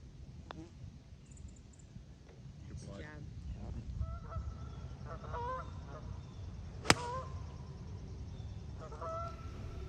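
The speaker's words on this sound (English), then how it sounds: "Was determined here to not let the geese affect me" Geese honk repeatedly on a golf course at Riverwood Golf Club, scattered calls at moderate distance over outdoor ambience, with one sharp click or impact partway through.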